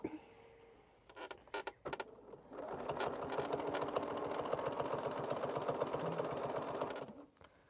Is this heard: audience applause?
no